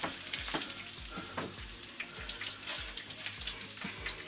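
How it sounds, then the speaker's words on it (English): Eggs fry on a plug-in ceramic hob, a steady close crackling sizzle broken by soft rhythmic taps and scrapes from a utensil, with no talk. "So I've just popped my eggs in and I've just turned the heat up on the lower one."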